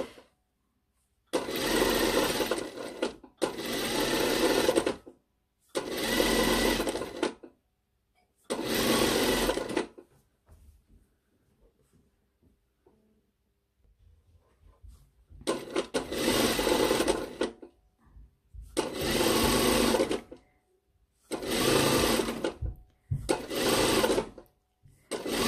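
Sewing machine stitching a small narrow hem on a top, heard as repeated close bursts of fast whirring, each a second or two long, separated by short pauses.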